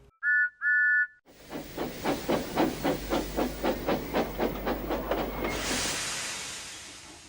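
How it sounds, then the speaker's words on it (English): A steam train gives two short high whistle blasts, then chuffs in a steady rhythmic series of exhaust puffs before a long broad hiss of released steam, loud and close with no talk. "they heard a whistle"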